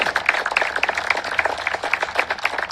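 Crowd applauding at a 2022 MSU Billings Yellow Jacket college baseball game during a senior class ceremony, steady dense clapping throughout, moderately loud and continuous with no talk over it.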